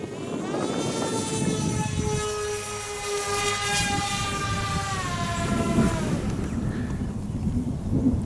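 Reptile Harrier S1100 radio-controlled model plane in flight, giving a steady, fairly loud whine whose pitch sweeps up and down as it passes, over continuous wind and low rumble.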